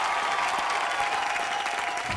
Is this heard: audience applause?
yes